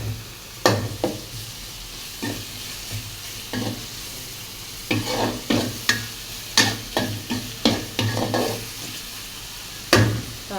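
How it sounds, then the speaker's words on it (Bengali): Onion and spice paste fry in a pan for a fish and bottle gourd with prawn dish, with steady sizzling broken by a dozen or so sharp stirring scrapes in uneven bursts, close and alone without talk. "তারপর দিয়ে দেব পেঁয়াজ আর বাটা"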